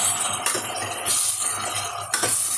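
An onion, ginger and green chilli puree cooks in a pan for Delhi chole, with a steady sizzle and three sharp metallic scrapes of a spoon against the pan, close and distinct.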